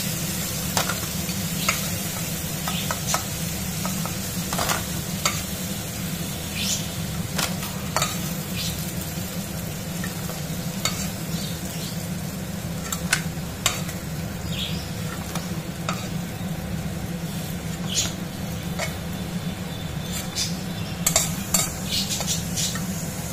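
Crab pieces fry in hot oil as a metal spatula repeatedly scrapes and knocks against the pan, a constant sizzle punctuated by frequent clinks and scrapes throughout, with no voices.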